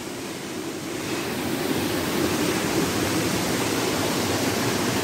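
A river rushing steadily over rocks on a hillside outing, a dense continuous roar of flowing water, close and even throughout with no voices.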